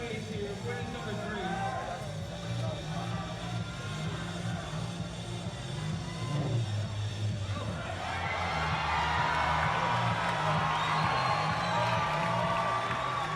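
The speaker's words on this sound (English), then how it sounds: "Margot Hayes getting the crowd absolutely going wild" A crowd at a national climbing championship final erupts into loud cheering and whooping partway through, swelling over an ongoing commentator's voice and staying strong to the end.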